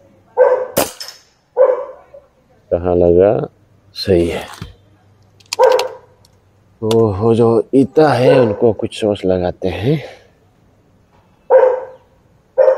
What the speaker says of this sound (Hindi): ये कुत्ता लोग बहुत भौंक रहा है यार,